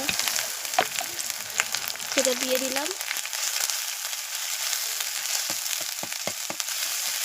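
Mustard paste with ginger, garlic and green chilli frying in a pan for a raw banana and boiled potato kofta, a steady close sizzle with a few stirring knocks and a brief spoken phrase near the start.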